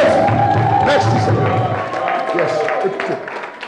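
A church congregation cheers and claps in acclaim of Jesus, a loud, dense crowd roar with mixed voices that runs through the whole stretch and eases slightly near the end.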